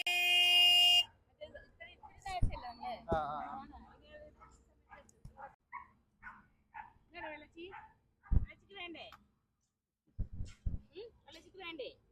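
A car horn sounds briefly, then people talk while stray puppies yip and bark in short bursts nearby.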